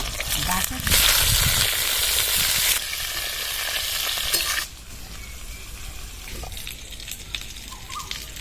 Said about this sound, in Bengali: এই তেলের মধ্যে বেগুনগুলো ছেলে দেবো